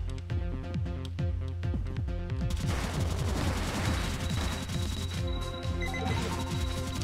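Rapid gunfire in the video game Cave Story+, a dense stream of quick blasts laid over looping chiptune-style music, with a high tone joining partway through.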